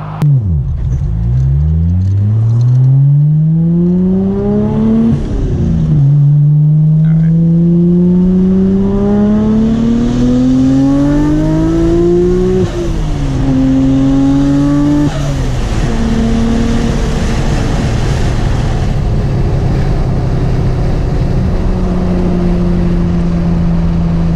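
Nissan Skyline R34 GTR with about 500 hp, driven on U.S. roads, accelerates hard through several gears; engine pitch climbs steeply, drops at each shift, and climbs again, loud and close from inside the car.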